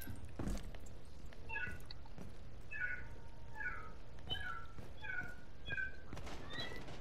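Repeated cat meows from the video game Rainbow Six Siege sound at a moderate distance, a string of short mews spread across the stretch, over a low background hum and a few brief clicks.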